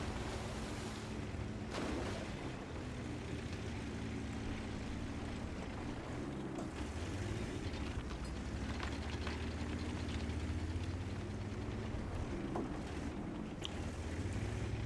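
Tank engine revving in World of Tanks, a continuous loud low mechanical drone with rising and falling pitch under steady game ambience, with no talking.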